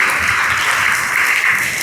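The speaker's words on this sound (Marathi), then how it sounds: "एकदा जोरदार टाळ्या" An audience at a Guru Purnima celebration in Karnataka claps loudly in a steady, dense burst of applause with no break.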